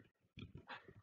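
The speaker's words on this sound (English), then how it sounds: "she's the one barking" Small pet dog giving a few short, quiet yips and whimpers with breathing in between, close by indoors.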